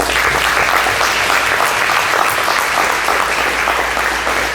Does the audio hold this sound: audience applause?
yes